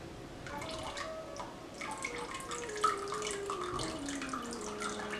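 Liquid poured slowly down a stick blender shaft into a cold process soap batter, a soft, close trickle with faint dripping and gentle gurgles, fairly quiet and steady.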